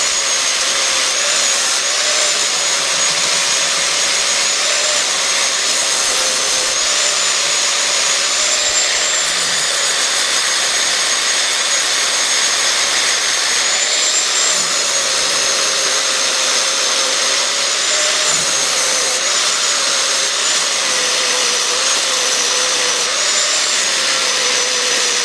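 A flap disc grinds plug welds flush on steel in a continuous, loud, high whine with a steady hiss, running unbroken and close throughout with only slight changes in pitch.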